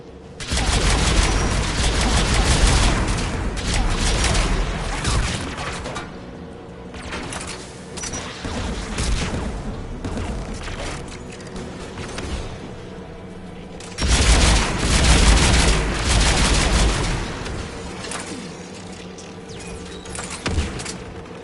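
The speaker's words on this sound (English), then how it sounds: "AA guns ahead of us." Anti-aircraft guns fire in a Mass Effect 3 battle: dense, sustained bursts of heavy booming gunfire with rumbling impacts, loud and continuous, surging again partway through.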